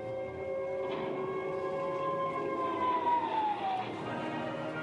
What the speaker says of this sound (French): avec en fond sonore le bruit des explosions et des sirènes antiaériennes